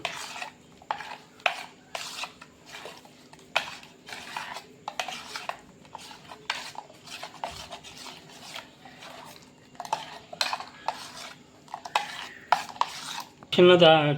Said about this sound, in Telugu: వేసి బాగా ఉండలు లేకుండా కలుపుకోవాలి ఫ్రెండ్స్